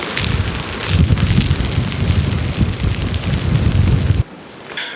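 Heavy rain drums on a tarp shelter pitched on a sandy island in Ontario, a dense steady patter with low gusty rumble, close and loud for about four seconds before suddenly dropping to a softer hiss.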